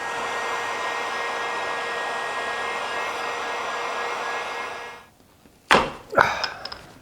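A heat gun softens glue on a pre-war wooden sled, blowing a steady whooshing roar for about five seconds before shutting off, followed by a couple of sharp knocks.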